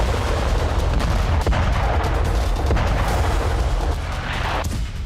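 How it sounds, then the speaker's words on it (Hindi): Heavy tank and artillery fire in a war zone, a dense continuous rumble of blasts and booming reports with sharp transient hits, loud and sustained without speech. "टैंक और तोप बारूद उगल रहे।"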